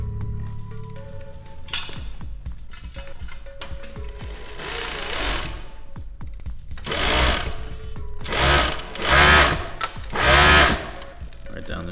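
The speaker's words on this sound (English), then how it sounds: "perfecting the different settings and the different tensions with the thread to have it be the most smooth stitch" A sewing machine stitches in loud rhythmic bursts that swell and stop, with mechanical clicks and clinks between runs and people talking underneath.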